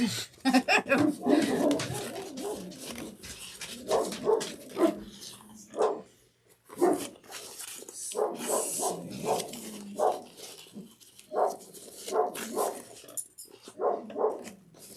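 Several dogs barking at home in bursts, some sharp barks rising above ongoing talk throughout, moderately near.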